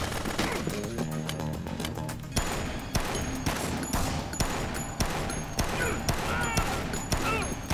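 Rapid gunfire in the Dead Rising video game: repeated sharp shots in a steady, dense rhythm over busy game noise and music, with voices talking underneath.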